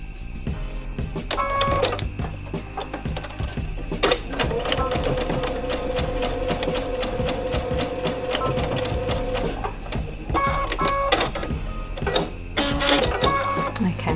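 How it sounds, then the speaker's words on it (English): A sewing machine stitches a crazy patchwork seam in loud, close bursts of rapid mechanical whirring. There is a long steady run in the middle and shorter runs at either end, with brief pauses between them and a voice talking over it. "Good idea to do a little reverse at the beginning and at the end this time, so that it doesn't separate while we're trying to sew it."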